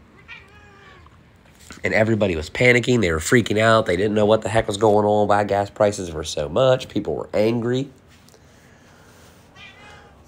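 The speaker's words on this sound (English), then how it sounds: "sorry for my noisy cat. Every time I talk, she wants attention." A domestic cat meows insistently for attention, short calls before and after, partly buried under someone talking steadily close to the microphone.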